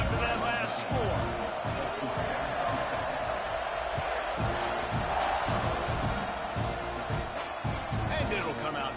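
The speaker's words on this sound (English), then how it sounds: "this crowd is buzzing after that last score" A football stadium crowd in a game against Texas A&M keeps up a loud, dense buzz of voices and scattered shouts, with a commentator talking over it throughout.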